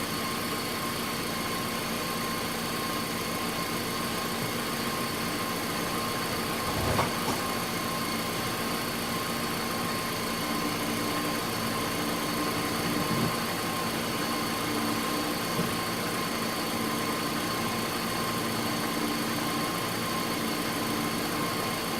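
Engine of a 2004 Kia Spectra idling after alternator and belt tension bolt replacement, a steady low hum with faint whine, even and continuous, with a couple of brief soft knocks partway through.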